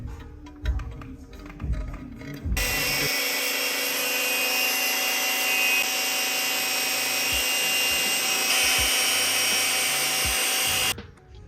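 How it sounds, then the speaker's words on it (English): Power deburring tool grinding burrs off a cut edge during a turbo kit install on a BMW E46, a steady loud whirring drone for about eight seconds after a few scattered handling clunks, then stopping abruptly. "Now we're gonna clean up that edge, make sure that these will seal right. Just get those burrs off."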